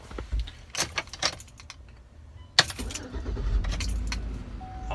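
Keys jangle in the ignition of a Chevrolet Tahoe after a battery replacement, then a sharp crank catches and the engine starts, settling into a steady close idle.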